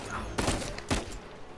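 Two short bursts of gunfire ring out in the video game Uncharted 4, loud and sharp over a constant background din of the game.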